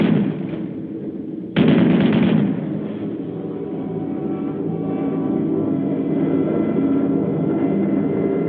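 Anti-aircraft flak bursting around bombers in WWII air combat: a loud, dense roar of gunfire with a sharp jump in intensity partway through, then a sustained rumbling barrage heard alone.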